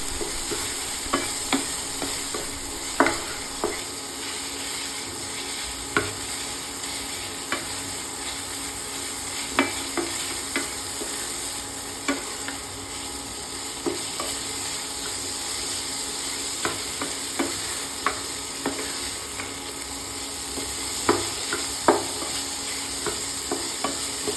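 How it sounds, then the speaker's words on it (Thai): Minced pork being stir-fried dry for southern Thai khua kling, with sugar and fish sauce added: a steady sizzle runs throughout, broken by regular sharp scrapes and taps of a spatula against the pan, close and loud. "พัดไปเรื่อย ๆ ค่ะ ให้เนื้อมูสุก"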